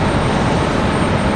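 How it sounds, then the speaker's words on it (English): A Frontier Airbus A320 departs Raleigh-Durham on a stormy day, a loud, close, unbroken jet-engine roar filling the brief moment. "This is Frontier 2225 headed to Denver, Colorado. This one an A320 at 251."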